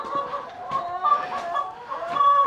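Several chickens cluck and murmur close by in their winter indoor housing, short nasal calls overlapping in an uneven, chattering rhythm.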